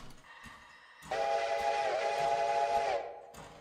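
Steam train whistle in the video game Railroader, a single loud sustained harmonic whistle blast lasting about two seconds before cutting off, set against quiet background rumble.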